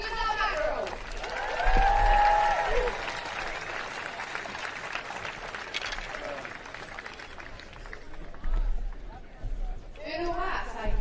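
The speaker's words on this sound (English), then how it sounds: "Of course, a round of applause for their opponent." A tennis crowd at the Giorgio Armani Tennis Classic applauds for the players, clapping and cheering mixed under a voice talking over a PA, swelling at the start and again near the end.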